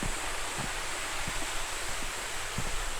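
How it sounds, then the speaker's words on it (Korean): A valley stream flows near Deungnyong waterfall on Myeongseong mountain, a steady broadband rush of water with a few soft low thumps, alone without voices. "등룡폭포 등 계곡 물소리를 들으며 걸을 수 있고"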